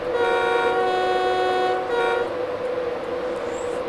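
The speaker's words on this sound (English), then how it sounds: "Train's ready to depart. Please stand clear of the doors. That's it. Let's stand here and watch the train depart." A BR Class 91 InterCity 225 electric train pulls away from a platform in Train Simulator 2017, its horn sounding in two steady blasts over a constant engine hum.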